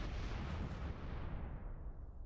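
Sustained booming artillery fire in the wartime strategy game Close Combat, a dense continuous rumble of distant explosions with no pauses and no voices.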